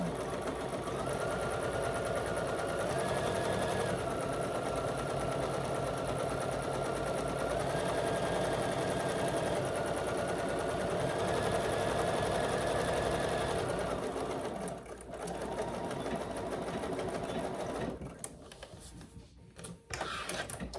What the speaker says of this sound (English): And then I'm gonna do a stitching right on the edge there. Back stitching, good.